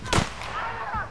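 A single sharp gunshot to the head in The Outer Worlds, a loud crack with a short decaying tail, followed by a fainter second impact.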